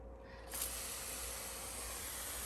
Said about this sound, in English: See that nice spray? It's a great, great tool.